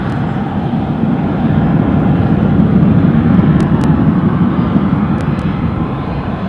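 An airplane departing Newcastle airport, with a loud, steady jet engine roar that swells slightly and then holds, heard from a fair distance with a broad low rumble throughout.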